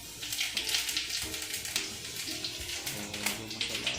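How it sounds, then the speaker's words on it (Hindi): Cumin seeds sizzle in hot oil during tempering for a home-cooked paneer curry, a steady close hiss and crackle for a few seconds with no talk. "तो फिर मैंने लगा दिया छौंका।"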